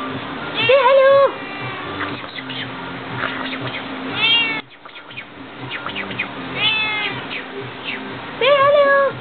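A pet cat meows repeatedly in a home, several drawn-out near meows in bursts, with a person talking and calling to the animals between them.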